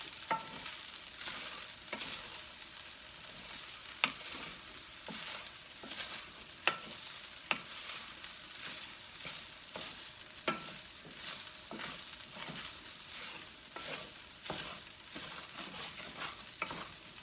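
Fried rice in a pan is stirred and tossed in a quiet, steady rhythm, with repeated scraping strokes and soft clacks of the utensil over a low, continuous sizzle.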